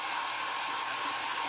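A hair dryer blows steadily and loudly to dry paint on handmade primitive craft boxes, a constant whooshing roar with no break and no voices.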